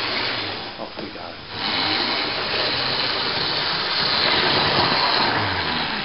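The motor bogie of a model Class 37 locomotive runs after repair. A soft start is followed by a steady, buzzing electric whir that holds at an even level until the end.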